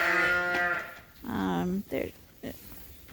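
Young ewe lambs in a group on a sheep farm give loud, close, wavering bleats, one long cry followed by shorter calls, with no talking.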